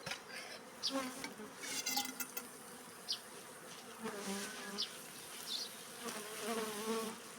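A swarm of bees being sprayed with water to calm them drones in a dense, continuous buzz, close and steady, with individual insects whining past the microphone and no talk.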